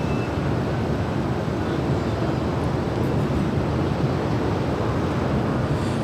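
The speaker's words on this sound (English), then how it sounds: "This is United 33 Heavy coming in from Tokyo Narita. It's a 787-9 Dreamliner." United Boeing 787-9 Dreamliner arriving from Tokyo Narita at Los Angeles airport, a constant broad low rumble with a hissing wash on top, steady and fairly loud throughout with no talk.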